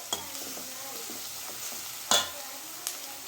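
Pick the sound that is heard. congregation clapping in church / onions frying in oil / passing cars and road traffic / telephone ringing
onions frying in oil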